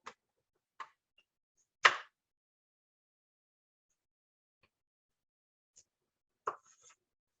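A knife cuts a sweet potato into thick steaks on a board, giving a few sparse, sharp chops and taps separated by silence; the fourth is the strongest.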